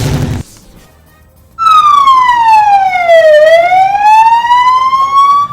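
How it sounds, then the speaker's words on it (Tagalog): A Bureau of Fire Protection fire truck siren signals the start of an earthquake drill at a school, wailing loud and close in a single long tone that sweeps down and then back up, following a brief burst of other noise and a short quiet gap. "Ang siren sa fire truck sa Bureau of Fire Protection ang gihimong timailhan sa pagsugod sa earthquake drill"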